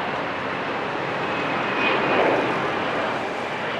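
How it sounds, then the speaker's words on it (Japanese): Loud, steady roar of a Peach passenger jet's engines taking off at Fukuoka Airport, swelling slightly in the middle as the plane passes, with no voices. "またピーチの飛行機も飛び立っていきますよ。"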